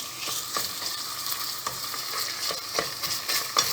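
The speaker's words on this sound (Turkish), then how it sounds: "Domates salçasını da iyice kokusu çıkıncaya kadar kavuralım." Tomato paste is fried in a pot for Ezogelin soup, with a steady sizzle broken by repeated scraping knocks as a spoon stirs it. The stirring is close and uneven, and no one speaks.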